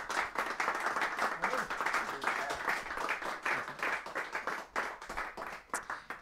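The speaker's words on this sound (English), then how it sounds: "I think they can have some applause for all of that." An audience applauds after a demonstration by an instrument-making team, steady mid-distance clapping throughout with some voices murmuring underneath.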